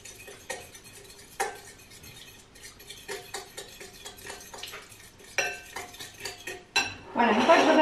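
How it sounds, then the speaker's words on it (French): Eggs being whisked in a bowl in a home kitchen, a run of light clinks and scrapes of utensil against the bowl, close and fairly quiet, building into louder rapid stirring near the end, with no talk. "mélanger les œufs"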